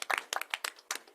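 A brief burst of applause at a school board meeting, a handful of people clapping in sharp, distinct strikes at close range before quickly trailing off.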